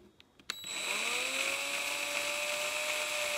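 Power drill boring into an Ohana CK-10S ukulele: a few faint clicks, then the motor spins up into a loud, steady high-pitched whine that holds close to the end.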